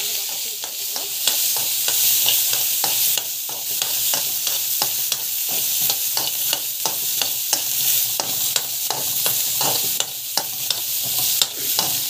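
Dried red chillies frying in a pan for a coconut, tamarind and onion chutney, with steady hissing sizzle and repeated sharp scraping clicks of a spoon stirring, close and without talk.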